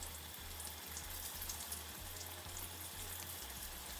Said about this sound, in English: I am going to fry the cauliflower ones, which I have flattened. So they go into for a second fry.